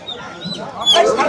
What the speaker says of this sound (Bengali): এখানে দেশি মুরগি একটু বড় মুরগির সাইজগুলো